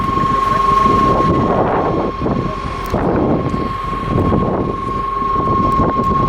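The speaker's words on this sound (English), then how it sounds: "Very windy, no talking today." Strong gusting wind buffets the microphone outdoors in Germany, a steady roaring rumble that swells and eases in waves, with a faint steady tone running underneath and no talking.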